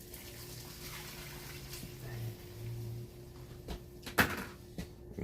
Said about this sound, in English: then you add the water